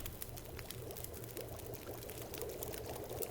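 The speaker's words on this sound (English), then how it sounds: "That should boil us up a lot of water there." Water boils over a fire in The Long Dark survival video game, a faint, steady bubbling and hissing that runs on without pause.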